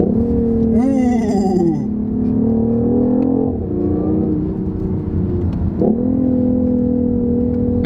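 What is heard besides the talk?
BMW i8 engine revving, Mustang-like sound via Harman Kardon audio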